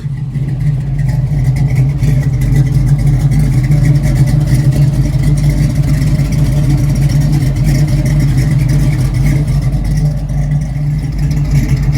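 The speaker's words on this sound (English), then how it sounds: "let's listen from the rear and the exhaust" A 1968 Chevrolet Camaro resto-mod with an M21 four-speed rumbles loudly and steadily from the exhaust, a deep throaty idle with slight revving fluctuations, close and continuous throughout.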